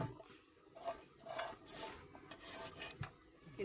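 Raw fish, already coated in mustard oil, is kneaded by hand with vegetables, spices and salt. Soft, quiet squelching and rubbing come in continuous uneven strokes close by, with faint clinks of a bowl.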